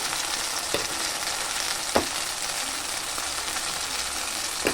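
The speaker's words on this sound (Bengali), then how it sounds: "দিয়ে ভালো করে কষিয়ে নেব তো এভাবে আমি কষিয়ে নেব ভালো করে" Coconut paste frying in a pan for a coconut hilsa curry, stirred and scraped: a steady, moderately loud sizzle with a few sharp spatula knocks standing out over the hiss.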